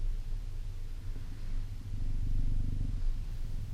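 A resting African cheetah purrs steadily and close up, a low continuous rumbling purr that swells slightly in loudness over several seconds, with no talking.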